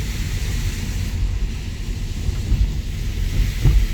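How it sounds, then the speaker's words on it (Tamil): Water at a riverside spot in Valparai rushes and babbles in a continuous, close wash of sound. A low, rumbling wind-like hiss runs underneath with a few bumps near the end. "தண்ணிய பாருங்க சல சல சல சலன்னு"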